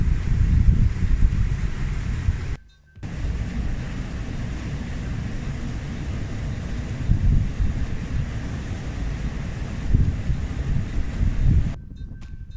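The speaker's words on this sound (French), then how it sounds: "comme vous vous rendez probablement compte, il y a beaucoup de vent" Strong wind roars and buffets the microphone in continuous gusts on a valley trek in Morocco's Tessaout Valley, with a brief drop to near silence partway through.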